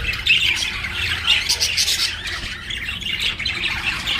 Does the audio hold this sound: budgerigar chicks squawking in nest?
yes